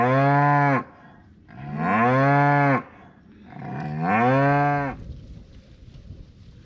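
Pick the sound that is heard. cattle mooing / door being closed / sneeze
cattle mooing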